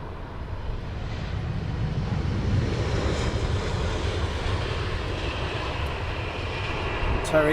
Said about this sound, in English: American 777,